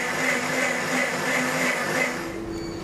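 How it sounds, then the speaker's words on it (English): A blender whirs loudly and steadily as it blends iced matcha milk with ice, a continuous motor hum with slight pulsing that winds down near the end, with no talk. "Add a little bit of ice into the blender and we are going to blend this together."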